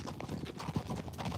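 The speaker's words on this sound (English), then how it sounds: "a very curious horse" Ziva the horse steps along a barn area with steady, moderately close hoof clip-clops in an uneven rhythm over a background rumble.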